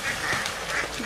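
Ducks quack close by at a village pond, a quick burst of several nasal calls over about a second.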